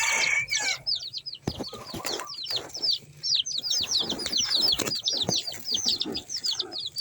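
Bantam chicken in a Filipino backyard, clucking and chirping in rapid repeated bursts among other birds, fairly close, with scattered knocks and rustles.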